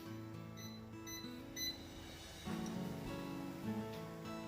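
Grape jelly maker beeping four times to signal it is ready for sugar: faint, quiet, evenly spaced electronic beeps over a low kitchen background.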